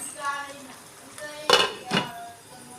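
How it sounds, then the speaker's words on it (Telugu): A spoon stirs tomato curry for an egg masala curry in a metal pot, with light scraping followed by two sharp metallic clanks as the lid goes on. The clatter is close and moderately loud. "ఇప్పుడు కలుపుకొని మూత పెట్టుకోవాలి"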